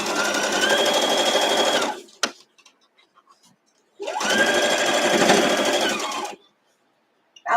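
A sewing machine stitches a 1-inch sashing strip onto a quilt block in two steady, loud running bursts of about two seconds each, separated by a quiet pause with a faint click.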